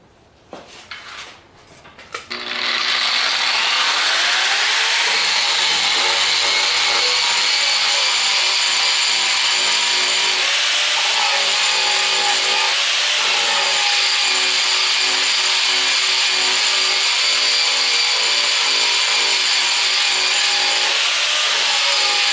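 A power tool grinding rust off a 5/8 inch steel plate, starting after a few quiet seconds of handling knocks, then a loud steady whine with a continuous abrasive hiss that runs unbroken to the end, with no talk.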